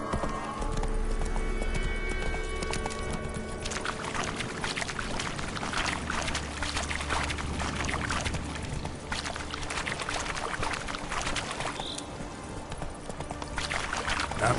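Hoofbeats of Roach, the horse in The Witcher 3, a continuous clip-clop of galloping hooves over game ambience, moderately loud and steady throughout with no speech.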